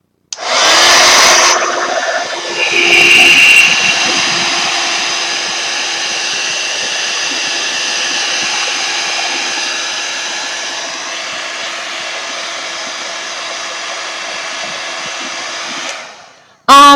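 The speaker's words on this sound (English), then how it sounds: "I was going to dry this before I added more colors. So sorry you have to endure this heat gun." A heat gun blasts steadily to dry Tim Holtz Distress Oxide inks, a loud, close, continuous roaring whoosh that holds for about fifteen seconds and then cuts off abruptly.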